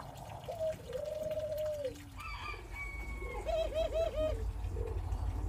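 Doves in an aviary coo in soft, rolling calls, including a rapid laughing series of notes, heard close and clear against a quiet farm morning background.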